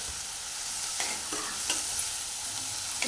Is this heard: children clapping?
no